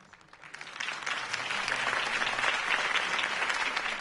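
Crowd applause at a Harvey Dent campaign rally in Telltale's Batman game swells from a quieter start into a broad, sustained roar of clapping that holds steady to the end.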